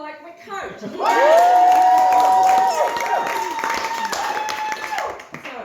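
Audience at a live show applauds and cheers loudly, with whoops and shouts rising over a wash of clapping that holds for several seconds before easing, while a voice speaks near the start.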